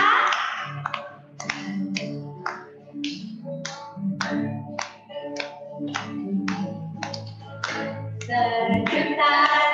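Steady rhythmic hand claps keep a regular beat under group singing at an online Sunday school service, crisp and close throughout.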